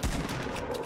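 Gunfire in the video game Fortnite, a quick burst of shots under a second long, moderately loud with no voices over it.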